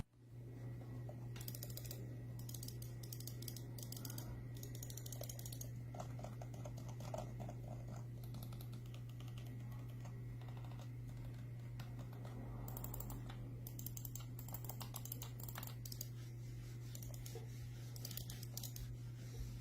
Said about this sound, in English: these Razer mechanical mouse switches can last up to 50 million clicks. They also sound great. Clicky, not too loud, but not too quiet.